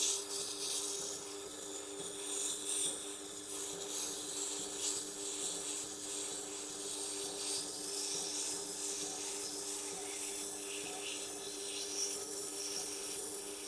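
A blade is ground to a convex bevel on a Tormek T8 wheel sharpener, producing a steady, continuous hissing scrape with a faint hum beneath and no speech.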